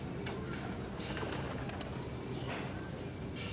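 Pigeons coo softly at a loft, a low murmur with a few brief wing flaps and chirps, and no voices.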